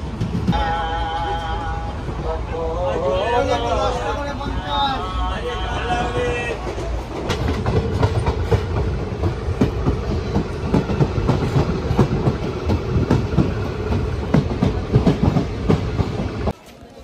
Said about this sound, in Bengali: আমাদের ট্রেন এখন ছেড়ে গেল বহরমপুর